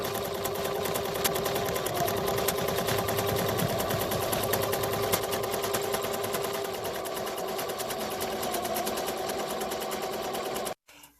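A home embroidery machine stitches lettering onto a quilt label in a rapid, steady needle chatter that runs loud and close for about eleven seconds before stopping abruptly.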